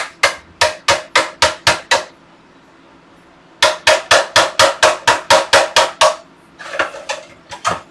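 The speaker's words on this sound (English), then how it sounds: "They started hammering it out, so I guess they're gonna have to put new floor in." Workers hammering out a floor during plumbing work, two fast runs of sharp, ringing close blows separated by a pause, then a quieter scattered burst of knocks.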